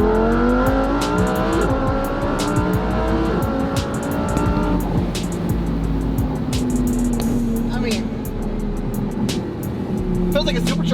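A twin turbo car accelerating hard, engine pitch climbing through gears with a shift partway, loud and close from inside, with a person talking over it.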